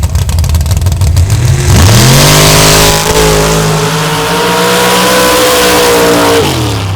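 A Ford Bronco drag truck at the Upper Merrimack Dirt Drags in Cook Station, Missouri, idles roughly, then roars up into a loud, sustained high-revving pull, holds for several seconds and drops off sharply near the end, with no talking.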